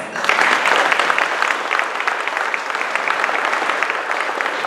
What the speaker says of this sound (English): May give your applause.